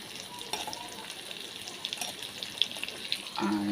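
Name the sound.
hilsa fish frying in oil in a wok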